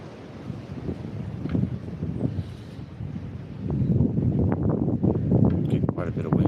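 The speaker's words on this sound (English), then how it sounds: "Getting quite a bit of wind." Strong wind from a severe line of storms buffets an outdoor microphone in a steady, loud roar that swells louder in the second half. Someone speaks briefly under the gusts.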